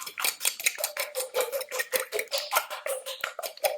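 A fork beats eggs in a bowl for spaghetti alla carbonara, giving a rapid, steady run of close metallic clicks and taps against the bowl's side, loud and alone.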